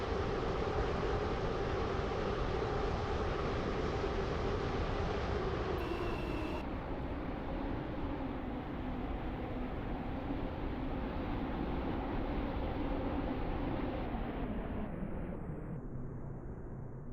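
A Class 707 train runs in the Stepford County Railway video game, a steady broadband rumble and hum of motors and wheels that shifts pitch as the train slows, with a brief tone partway through and no talk.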